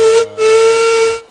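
A cartoon steam engine on a narrow-gauge railway sounds its whistle, a loud, steady tone broken by one short gap, then a longer blast that fades out, clear and close with no voices.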